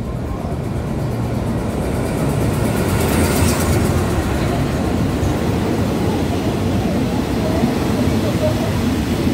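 A train rumbles steadily and loudly at a station on Thailand's Death Railway, the continuous low roar filling the whole stretch while tourists talk nearby.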